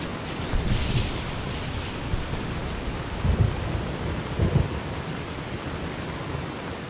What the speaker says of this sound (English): And of course we got some really loud rain